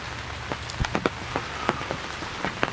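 Rain patters on a hunting blind on a dark, cloudy day, a steady close hiss of drops with irregular sharper taps scattered throughout, and no voices.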